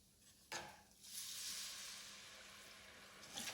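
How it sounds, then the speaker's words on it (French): White wine poured into a pan of risotto rice sizzles sharply with a sudden hiss, then a steady bubbling fizz and stirring clinks, close and fairly quiet. "Ensuite, on va déglacer avec le vin blanc."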